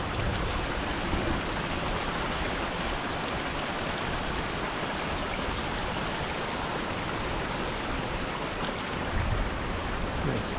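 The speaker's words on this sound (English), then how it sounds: "It's pouring down" Heavy rain pours down on the road to Yankee Boy Basin among mountains and trees, a dense, unbroken roar of falling water with no voices.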